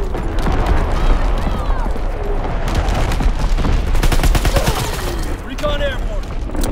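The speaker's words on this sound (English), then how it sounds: "Dropping Azon bomb." An Azon bomb dropping and exploding in the Call of Duty WWII video game, heard as dense booming blasts and rapid gunfire throughout, loud and chaotic, with a voice speaking briefly.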